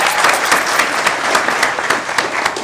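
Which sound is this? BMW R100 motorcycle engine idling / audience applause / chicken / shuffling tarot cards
audience applause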